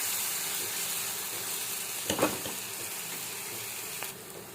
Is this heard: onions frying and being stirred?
yes